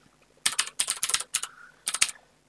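Quick bursts of keystrokes on a computer keyboard, close and crisp, grouped into short clusters with small pauses between them, the fast clicks standing alone in a quiet room.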